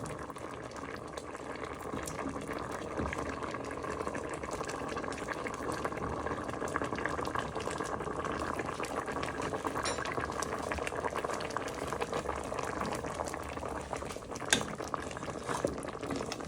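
A pan of Moroccan chicken with dried cherries bubbles and simmers steadily, a close, continuous wet gurgle with occasional soft clinks as it is stirred, no talking.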